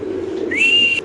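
A male racer pigeon gives a short call nearby, a brief rising whistled note over a low murmuring background, lasting under a second.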